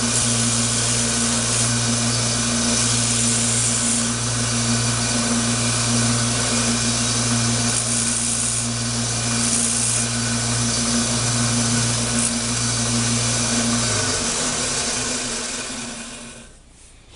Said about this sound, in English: we're going to take it over to the belt sander and clean these up a little bit better